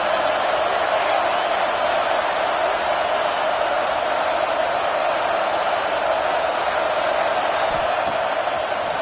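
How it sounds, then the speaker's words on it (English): A home stadium crowd in a college football video game roars steadily, a dense, loud wash of cheering that holds without a break. "this home crowd is fired up and ready to make a difference today"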